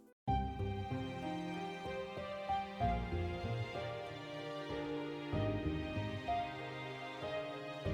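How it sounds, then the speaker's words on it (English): An orchestral JRPG main theme with harp lines tracking plucked pizzicato strings, a bright rhythmic pattern over low sustained tones, steady and full throughout with no voices. "And then I added this harp, which sort of follows the pizzicato strings"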